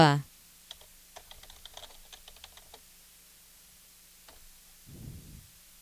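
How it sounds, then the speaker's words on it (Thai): Keys tapped on a computer keyboard in a quick, light run of faint clicks, then a pause and a couple of stray taps, with a brief voice at the start and a low thump near the end. "พิมพ์คำว่าประวัติส่วนตัว"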